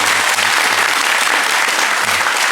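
A church congregation bursts into loud, sustained applause during a Sunday worship service as a gift is presented to an elder, dense clapping filling the room without pause.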